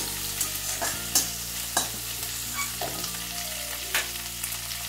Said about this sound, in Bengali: দিয়ে দিচ্ছি ক্যাপসিকাম, এইগুলো একটু হালকাভাবে একটু ভেজে নিচ্ছি।